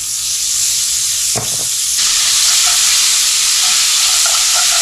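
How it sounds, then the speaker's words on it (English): Bacon sizzles loudly in a hot, smoking skillet with olive oil, a steady bright frying hiss with a brief clatter near the start, no talking. "we're going to throw our bacon in the skillet. And it's good and hot."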